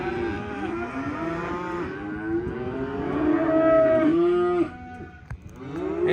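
Weaned Mashona cross calves moo loudly and repeatedly, several overlapping drawn-out calls close by, with no talk.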